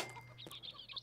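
Chickens in the Campingplatz Simulator 2010 camping-park video game give a short run of quick, fairly faint clucks over a low steady hum.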